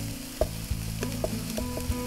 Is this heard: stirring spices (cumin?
yes